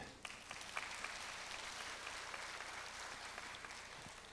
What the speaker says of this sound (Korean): 저는 박수를 누가 제일 먼저 쳤는지 알고 있습니다.